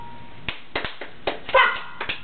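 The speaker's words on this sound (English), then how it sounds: "Simon says, clap hands." Children clapping their hands during a game of Simon Says, a few scattered, uneven claps and slaps, close and fairly soft, in a short burst without talking.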